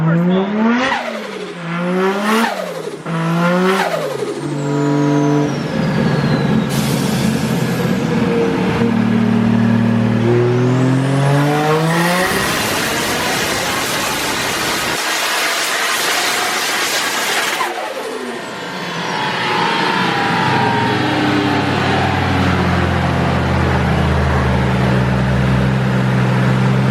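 700HP Nissan R32 fitted with a small turbo and a 2J bottom end doing street pulls, loud repeated revving through rapid gear changes with rising and falling engine pitch, then a long hard pull and a settling rumble.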